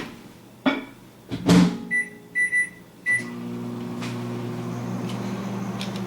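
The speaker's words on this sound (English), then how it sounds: "We're going to put that in the microwave for about 2 minutes." A microwave oven heating chap stick ingredients to melt them: a few door or button clicks and beeps, then a steady low electrical hum that runs on alone.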